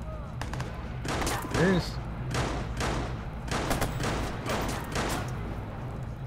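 Video game gunfire in Watch Dogs: repeated bursts of rapid shots and volleys crackling through the whole stretch, loud and close, with a brief spoken word over it.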